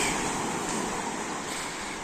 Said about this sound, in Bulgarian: сега в момента вятър няма, но вълните са си мощни